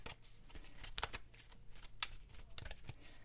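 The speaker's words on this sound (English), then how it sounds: "I'm gonna keep shuffling." Tarot cards are shuffled by hand up close in quick, irregular riffling bursts, with crisp flutters and soft taps repeating throughout and no talking.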